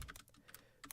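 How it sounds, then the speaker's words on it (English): Clicky computer keyboard being typed on: a quick burst of several sharp, close key clicks in an uneven rhythm, heard alone over less than a second. "I wonder if you can hear the clickiness of my keyboard."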